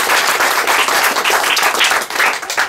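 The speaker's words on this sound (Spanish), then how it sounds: "le pido un fuerte aplauso a la diputada Alma Cruz" Audience applause at a property-title signing ceremony in the Rio Chiquito community of Zacatecoluca, a dense, steady burst of many hands clapping close by.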